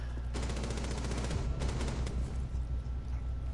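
Rapid automatic gunfire from the video game Rainbow Six Siege, a dense continuous burst of loud shots with a few brief gaps, close and dominant throughout.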